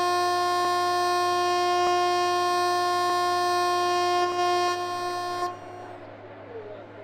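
An Indian Railways train in a train simulator game gives a loud, steady horn-like tone for about five seconds. It then cuts off, leaving a lower rumble of the moving train.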